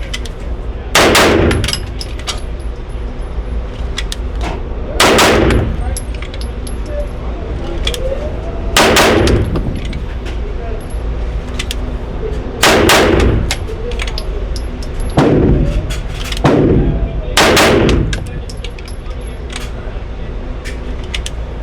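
Pistol shots ring out during a USPSA shooting drill, sharp loud reports spaced a few seconds apart, some in quick pairs and a closer cluster near the end, over faint outdoor background.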